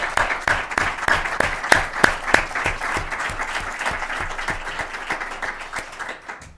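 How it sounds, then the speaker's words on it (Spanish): An audience at a press and politics event gives a tribute round of applause, with sharp individual claps standing out in a rhythmic patter that gradually thins and fades to near silence. "quería pedirles a todos ustedes que le recordemos con un aplauso"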